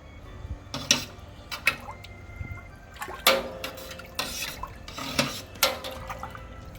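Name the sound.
stirring brewing salts into water in a mash tun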